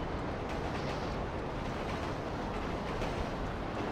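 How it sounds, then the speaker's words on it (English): A GTA V train rumbles past in a steady, dense low roar with a continuous rolling rattle, moderately loud throughout with no distinct crash standing out. "That train ran over my car."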